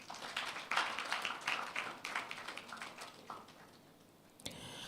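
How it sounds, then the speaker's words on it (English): Audience applause at the launch event of a STEM festival in Ghana: a dense spatter of clapping that thins out and fades over about four seconds, followed by a brief sharper sound at the end. "Please give them a round of applause."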